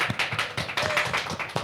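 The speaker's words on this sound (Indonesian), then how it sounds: "tepuk tangan dong" An audience at a live radio music show claps briefly, a quick burst of fairly close, uneven claps lasting under two seconds.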